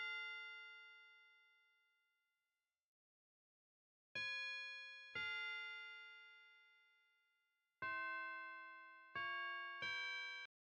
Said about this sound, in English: Next, I have a bell from Expand. It's just a tubular bell.